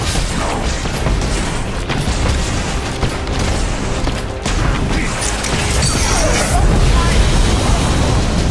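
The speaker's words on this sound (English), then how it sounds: "Turret destroyed." Dense explosions, gunfire bursts and crashing impacts from the Infinite Crisis game fill the fight as a turret is destroyed, loud and continuous, with a voice speaking over the din.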